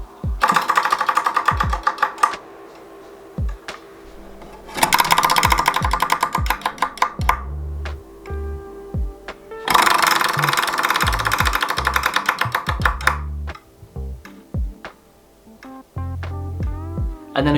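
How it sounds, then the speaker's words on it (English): Selector on a homemade spinning decision wheel clatters against the pegs in rapid bursts of clicking, each run loud and dense, then thinning into slower separate clicks as the wheel winds down. "it makes that really satisfying clicking noise making the decisions"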